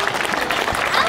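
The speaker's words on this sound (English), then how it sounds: "Let's give Helen the dolphin and trainer Charlotte a welcoming round of applause" Audience applause at a dolphin show at the Vancouver Aquarium, greeting a dolphin and her trainer with a short, even spell of many hands clapping together.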